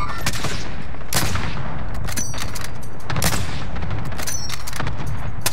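Video game gunfire in Call of Duty: Modern Warfare: loud, dense bursts of automatic weapon fire and sharp shots cracking continuously, with heavy booming low end throughout.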